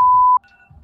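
A phone lets out a single loud, pure steady beep lasting about a third of a second, cut off abruptly, followed by faint quieter tones and low background hum.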